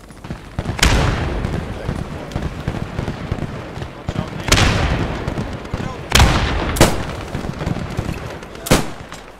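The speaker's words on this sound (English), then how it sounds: "Grenades out at the barn." Grenade explosions in a multiplayer war video game event: five sharp, loud blasts spaced irregularly over a continuous bed of distant gunfire and battle noise, with a voice speaking over it.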